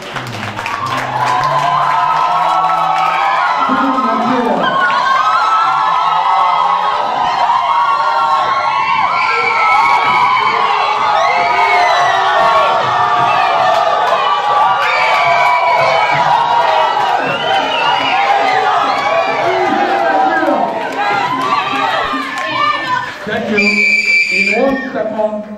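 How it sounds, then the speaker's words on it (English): An audience gives a standing ovation to a professor after a talk on Lagos history in Nigeria, with loud, sustained applause mixed with cheers, whoops and shouting voices that continue throughout before a brief lull near the end. "Big round of applause for Professor Osagoro. And what a woman with your standing ovation."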